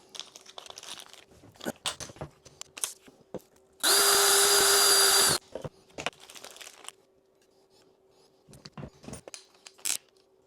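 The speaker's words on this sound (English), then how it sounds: "we'll take the provided drill bit, drill some pilot holes" A power drill whirs steadily for about a second and a half, loud and close, drilling pilot holes in an RV door for a screen crossbar, with scattered clicks and handling noises before and after.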